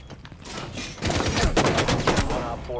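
Rapid gunfire bursts from a Rainbow Six Siege firefight ring out loud and close, a dense volley of several shots packed into a couple of seconds after a quieter lead-in.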